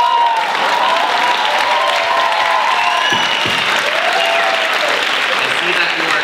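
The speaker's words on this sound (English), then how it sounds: "So on the count of three, can I get you all to clap?" An audience at the TRØ17 Euroconcert claps together on cue, a loud continuous wash of applause filling the whole stretch, with faint crowd voices mixed in.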